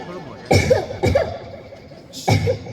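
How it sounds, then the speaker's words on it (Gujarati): Three harsh, chesty coughs from a two-week-old persistent cough, at uneven intervals, close and loud, with no talking in between. "કેમ આટલી બધી ઉધરસ કરી છે?"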